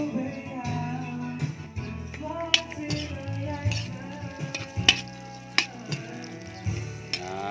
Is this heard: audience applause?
no